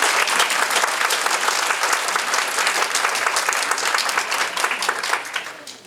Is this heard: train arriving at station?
no